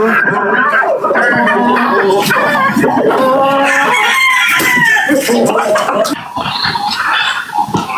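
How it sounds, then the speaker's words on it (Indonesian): Chickens on a poultry farm cluck busily while a rooster crows loudly nearby, the birds calling almost continuously throughout, with people talking over them. "Dia lagi di ternak ayam."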